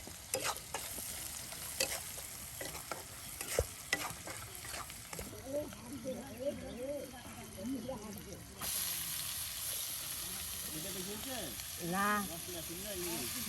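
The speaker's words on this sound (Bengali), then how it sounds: "করলা কুচি তার সাথে আলু কুচি একসাথে দিয়ে কিন্তু ভেজে নেওয়া হবে।" Chopped bitter gourd and potato pieces fry together in hot oil, a continuous sizzle broken by scraping and stirring clatter, with faint voices murmuring in the background.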